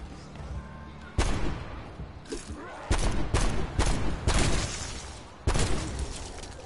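Magnum pistol shots ring out in a zombie-round video game: about six loud, sharp blasts, irregularly spaced with short gaps, over a low background hum and faint voices.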